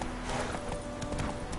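Roach the horse from The Witcher 3 gallops in a brief, dense burst of fast hoofbeats, close and fairly loud, over a steady background drone.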